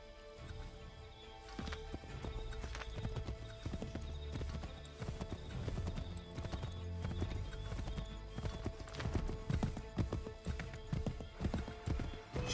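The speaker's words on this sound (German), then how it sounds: "Steig wieder aufs Pferd" Galloping horse hooves clip-clop steadily through the whole stretch in the Assassin's Creed 3 game, with a horse whinnying amid dense game music and effects.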